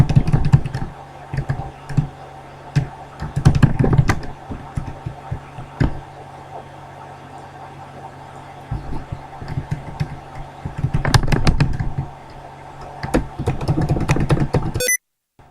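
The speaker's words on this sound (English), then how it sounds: "I hit the shift so many times I got a sticky keys" A computer keyboard's shift key is tapped over and over in rapid bursts of clicks during play of the idle game Anti-Idle: The Game, with pauses between bursts over a steady background hum.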